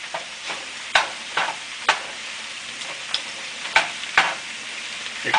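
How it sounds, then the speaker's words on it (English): Tomato paste being stirred into browned beef chunks for stew, with a utensil scraping and clacking against the pot every half second or so over a steady background sizzle, close and moderately loud. "I'm going to stir this tomato paste in here."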